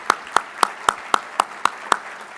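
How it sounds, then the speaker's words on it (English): At a State of MARTA address event, hands clap in eight crisp, evenly spaced claps at a steady rhythm, fairly close and loud against a quiet hall. "Let's give them a round of applause."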